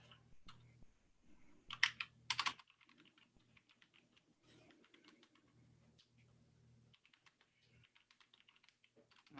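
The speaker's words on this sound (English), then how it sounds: "Well, you interrupted my typing, Mr. Fier." Someone types on a computer keyboard in quick, irregular bursts of soft clicks, close and fairly quiet, with a couple of louder taps and short pauses between runs.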